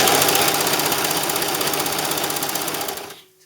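A Brother 1034D serger stitches fabric with a steady, fast mechanical chatter and rhythmic knocking, running loud and close for about three seconds before stopping abruptly into near silence.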